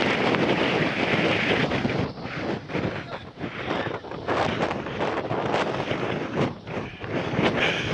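Strong wind roars and buffets the microphone while riding up the Mt Washington Auto Road, a loud continuous rush with gusty swells, and a voice is faintly heard under it.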